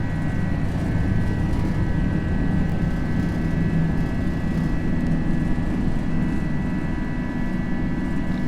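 An Airbus A320 jet in the FSLabs flight simulator roars steadily through its takeoff run, a loud, constant engine rumble with a high whine laid over it, and no talk.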